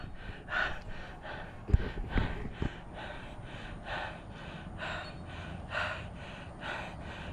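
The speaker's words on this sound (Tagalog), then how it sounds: "Hingal na ako." Heavy, labored breathing from a rider catching breath after a hard bike climb, with repeated gasping breaths in a steady rhythm, close and fairly loud, plus a few sharp knocks partway through.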